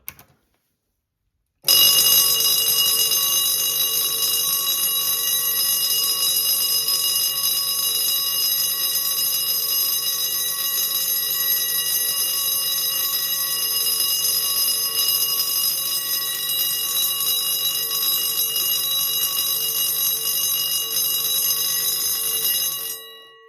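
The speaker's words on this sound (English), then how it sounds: "It's just an awesome bell." A fire alarm bell rings loud and continuous for about twenty seconds, a steady metallic clanging that never pauses, after a brief silence.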